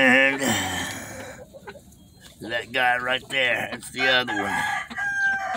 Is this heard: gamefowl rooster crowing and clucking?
yes